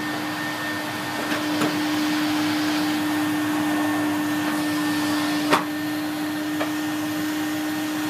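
A Numatic Henry HVR200A vacuum cleaner runs on its low power setting, giving a steady, even motor hum with a constant whine and a couple of faint clicks, no voices.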